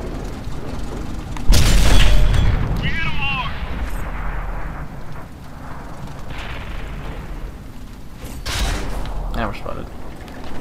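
A Waffentrager Panzer IV tank gun fires in World of Tanks, a heavy booming blast early on and a second, lighter boom near the end, with a voice talking and game noise between shots.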